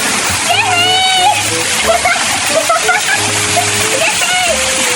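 Rushing water splashes steadily nearby while excited voices shout and chatter over the constant roar of a waterfall.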